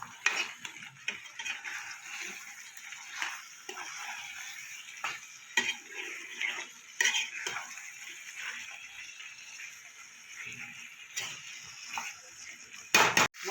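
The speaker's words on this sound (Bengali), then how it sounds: "মশলার সাথে ভালো করে মাংস আলুটা আমি কষিয়ে নেব।" Chicken and potatoes stir-fried with spices in a pan, mostly heard as intermittent clinks and scrapes of a utensil against the pan over a faint sizzle, fairly quiet with irregular bursts.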